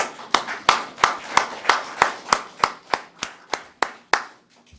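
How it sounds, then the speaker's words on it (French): An audience in a church service claps for a man named Serge in steady unison: about thirteen sharp, evenly spaced claps, each ringing briefly in the room, fading toward the end with no talking. "On peut l'applaudir."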